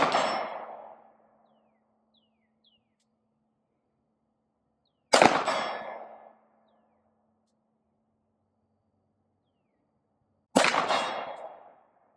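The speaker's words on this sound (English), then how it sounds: "we shot 3 shots from a distance of 75 yards" Three single Glock 19 pistol shots fired at a target from 75 yards, each a sharp crack with a short decaying echo, spaced about five seconds apart on an outdoor range, with quiet between them.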